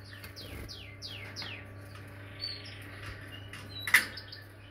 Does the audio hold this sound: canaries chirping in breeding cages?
yes